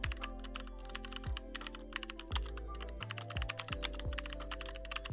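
An AI image prompt is typed on a computer keyboard, a rapid, steady stream of close key clicks over a continuous low humming tone in the background.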